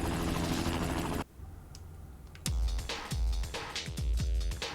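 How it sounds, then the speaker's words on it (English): Helicopter in the Spider-Man 2 (2004) video game, a dense rotor-like roar that drops away abruptly, followed by heavy low thumps and impacts with bright ringing game effects. "He just happens to have a helicopter now for some reason."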